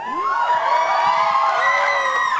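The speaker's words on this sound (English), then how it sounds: "You're clapping, you're cheering for a racist joke." Audience at a live comedy show cheering and whooping loudly, with raised voices and shouts sustained throughout, dense and close.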